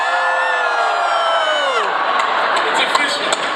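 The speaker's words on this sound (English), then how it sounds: "Scream yes if you love the name The Sandwich. Scream no if you don't." A crowd screams and cheers loudly together in response to a question from a stage, a sustained roar of many voices with whoops rising near the end.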